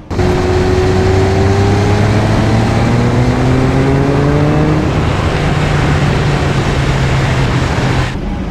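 A 1993 Jaguar XJ220 supercar engine revs loudly and steadily, its pitch climbing through several rising sweeps before holding a deep, sustained roar that cuts off abruptly.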